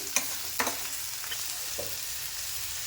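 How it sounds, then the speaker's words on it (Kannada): Tomatoes fried in oil in a pan after onions, giving a soft continuous sizzle with several spatula clicks and scrapes near the start, and no one speaking. "ಇವಾಗ ಟೊಮೆಟೊನ ಹಾಕ್ಕೊಂಡು ಫ್ರೈ ಮಾಡ್ಕೊತೀನಿ."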